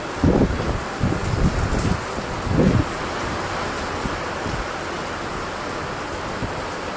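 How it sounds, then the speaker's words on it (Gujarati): A heavy monsoon downpour in Surat, driven by strong wind, hisses in a dense, continuous wash, with a few louder gusts buffeting the microphone early on. "ફૂલ પવન સાથે વરસાદ, આ ધોધમાર વરસાદ ચાલુ છે."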